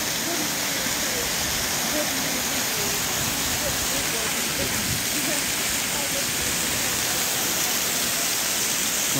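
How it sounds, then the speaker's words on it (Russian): The Su-Uchkhan waterfall in winter makes a steady, dense rushing roar of falling water that fills the whole stretch evenly, heard near and without pause. "Ну вот знаменитый водопад"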